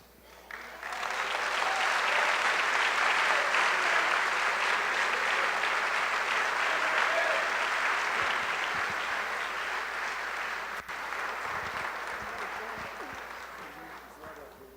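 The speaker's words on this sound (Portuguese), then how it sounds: "Você pode aplaudir mais uma vez o Senhor." A church congregation at a worship service claps together in sustained, dense applause. It swells quickly, holds loud and even for many seconds, then slowly thins toward the end.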